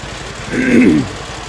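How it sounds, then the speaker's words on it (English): A John Deere tractor with chrome exhaust stacks rumbles past at a show, its low beat swelling for about half a second before fading back to a quieter hum. "Here comes another John Deere. Listen to that sound."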